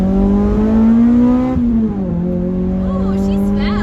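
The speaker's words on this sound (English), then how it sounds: "Guys are racing a Prius at the light." Cars accelerate away from a traffic light in a race against a Prius, with a near engine droning steadily and then shifting pitch as it revs. People talk over it.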